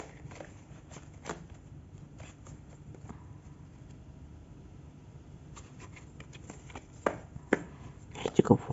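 Tarot cards being shuffled by hand in a quiet room, a steady soft riffling patter with scattered sharper taps and a cluster of louder card slaps near the end.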